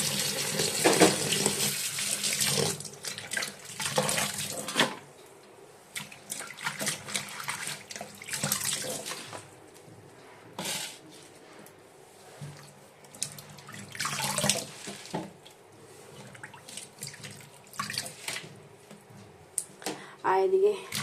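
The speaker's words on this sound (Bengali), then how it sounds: "ভালো করে ধুয়ে নিই।" Chopped spinach rinsed under a running tap at home: steady gushing water, loud at first, then splashing and handling noises that come and go while a person talks.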